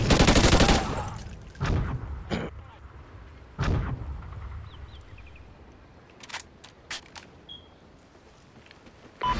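Video game gunfire in a Strikezone search-and-rescue match: a loud opening blast, then scattered sharp reports and distant cracks over a rumbling low background.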